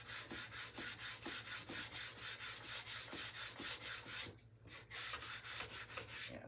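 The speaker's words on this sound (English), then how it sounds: "you took sandpaper to your gun." Sandpaper is rubbed by hand on a Savage 64 rifle stock in quick, even back-and-forth strokes, a close, rhythmic scratchy rasp that repeats about three times a second with a brief pause near the end.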